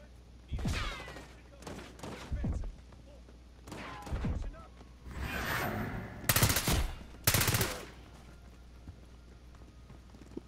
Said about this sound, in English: Oh, they're shooting the shit out of me.